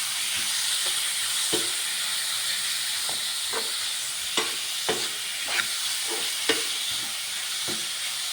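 Garlic sizzles steadily in hot oil for a chicken curry, a dense hiss broken by sharp clacks of a spoon stirring the pan at irregular intervals.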